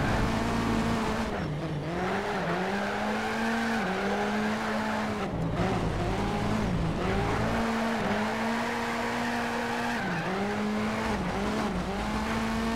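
Tires squeal continuously as a car drifts in the racing game Need for Speed: Shift, with a loud engine whine rising and dipping through repeated gear changes and long skids.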